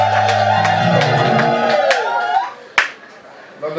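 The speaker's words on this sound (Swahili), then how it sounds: "Kwa naomba tuwape pongezi kwa shangwe kubwa" Guests at a wedding break into loud applause and cheering, bright rhythmic claps layered over voices and a sustained tone that fades, followed by a sharp thump and quieter crowd noise.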